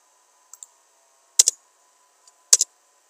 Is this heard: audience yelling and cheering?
no